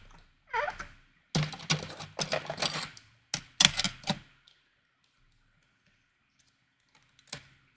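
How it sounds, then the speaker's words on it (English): A small die cut machine being run for papercraft, giving several short bursts of clattering mechanical noise with brief pauses between them, close and fairly loud, then a single faint click near the end, with no talking. "So we're going to just use our little die cut machine for this."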